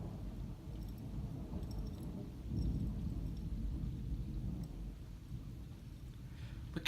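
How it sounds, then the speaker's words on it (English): Massachusetts thunderstorm with a low, continuous rumble of thunder swelling midway and steady rain beneath it, distant and rolling with no voices. "Look at all the booming."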